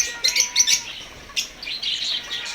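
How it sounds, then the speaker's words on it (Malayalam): An African lovebird chirps in quick, shrill bursts, several sharp high tweets close by, with brief pauses between clusters and no voices. "African love bird."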